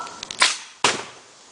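An outdoor air cannon fires a metal weight at a plywood target: two sharp, loud bangs less than half a second apart, the launch followed by the impact, each trailing off into quiet.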